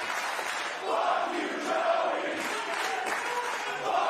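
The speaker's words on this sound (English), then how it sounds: "Well, the crowd is very displeased." A wrestling crowd at a live event reacts in displeasure, a broad, steady roar of massed voices from a large audience in the arena, continuous and moderately loud with no distinct individual words.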